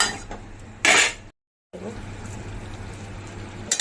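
A utensil stirs a fish head with greens in a cooking pot, a short scraping clatter, then a brief silence and a steady low simmer.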